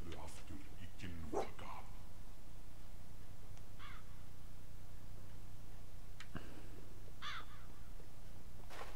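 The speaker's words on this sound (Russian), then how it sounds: "Какие-то вороны стоят." Crows caw in the fantasy game Jotun, several short harsh calls spread across the scene over a low steady ambient drone, with someone talking in between.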